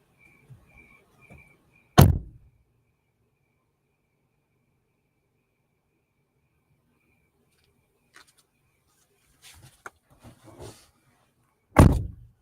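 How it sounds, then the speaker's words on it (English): Doors shut with two sharp, loud thuds about ten seconds apart in a quiet room, with faint insect chirps and small clicks and shuffles between them. "I'm going to close the doors."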